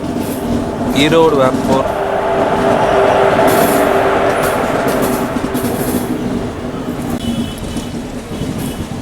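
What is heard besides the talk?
train running from Sengottai to Tambaram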